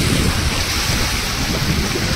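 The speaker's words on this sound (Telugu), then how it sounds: "చూడండి గాయస్ ఫుల్ వర్షం పడుతుంది" Heavy rain pours steadily near a new bridge in Kadapa in the early evening, a dense, unbroken wash of noise that stays loud and even throughout, with no voices.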